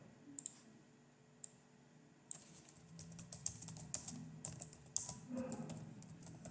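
Laptop keys clatter in soft, quick taps: a few isolated clicks first, then a denser run of typing, close and fairly quiet with no talk.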